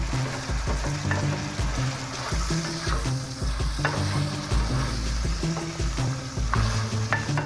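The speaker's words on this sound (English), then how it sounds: "our beef is browning up nicely. You want to make sure you're moving it around and getting it nice and brown throughout" Ground beef browns in a pan as a utensil repeatedly scrapes and stirs it, a steady sizzle running underneath the rhythmic knocks against the pan.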